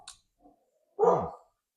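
A dog lets out one short bark or yelp, fairly close, after a couple of faint clicks, during a quiet moment in an indoor beer tasting, with no talking over it.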